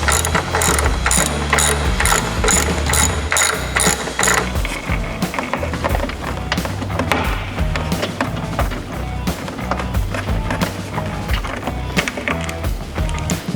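A ratchet wrench works 9/16 inch screws loose on a Harley touring bike, sounding as rapid rhythmic pawl clicks in repeated bursts, close and loud, with small metallic knocks between strokes.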